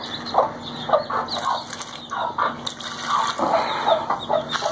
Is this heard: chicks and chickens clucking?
yes